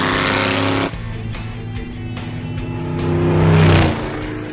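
An engine drives an '85 C4 Corvette-based kart along a highway, a loud steady drone that drops after a shift, then swells with higher revs before easing, with road and wind noise.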